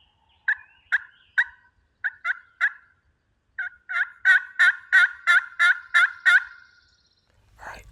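Wild turkeys gobbling in a series of sharp, rattling calls, first in scattered groups, then a rapid run of about eight gobbles, clear and fairly close in otherwise quiet surroundings.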